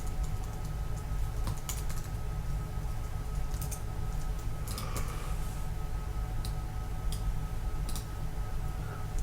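A computer keyboard clatters with steady, fast typing, its light keystrokes ticking close and even over a quiet room hum.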